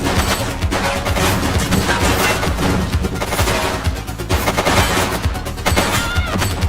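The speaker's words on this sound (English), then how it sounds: "She's shooting!" Dense, rapid gunfire from a shootout in the police game The Precinct: sustained volleys of shots and bursts, loud and continuous, with no speech.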